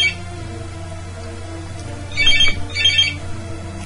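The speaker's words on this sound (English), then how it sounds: "Oh, and the phone goes off." A phone ringtone goes off during a Pokemon Showdown battle, two short bursts of bright electronic ringing at moderate volume over a steady low hum, with no talking.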